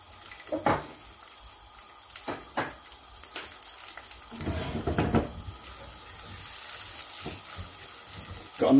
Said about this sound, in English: Got a nice little sizzle on going there.